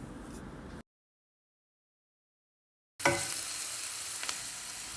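Kashmiri chili powder and turmeric are stirred into a hot frying pan, and a soft sizzle with light scraping is heard. The sound drops out to silence for about two seconds, then returns louder.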